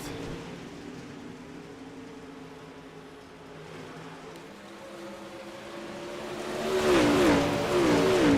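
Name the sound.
late model race cars racing at Eldora Speedway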